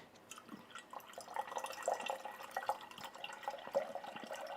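Water pours from a Turin electric gooseneck kettle in a steady, fast stream, a soft continuous splashing with faint trickles, quiet and close with no voices.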